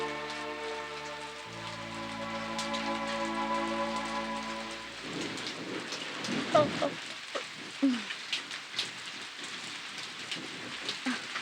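Rain falls steadily during a scene in the Tamil film Kadhal Kottai, a soft wash of patter under sustained music at first, then scattered louder drips and splashes once the music stops.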